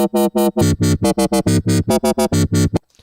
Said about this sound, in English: In this video we looked at how to set up the basic wobble sound